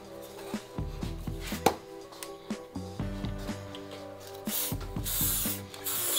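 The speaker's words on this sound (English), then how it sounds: "spray glue a bit here" Spray glue hisses from an aerosol can onto plastic foil for a homemade Stranger Things gate decoration, in a few separate bursts, the longest near the end, between handling and crinkling noises.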